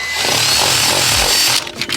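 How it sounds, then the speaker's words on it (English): A power drill bores through the metal floor of an S54-swapped BMW E30, a loud, harsh grinding run that cuts off abruptly after a couple of seconds, followed by a few faint clunks. "We're throwing a drill through the floor"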